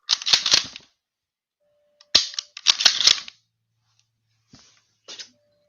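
A gun is fired by pulling the trigger, giving several sharp cracking bursts close by in an irregular pattern: a cluster at the start, more around the middle, and a faint, lighter pop near the end, with silence between.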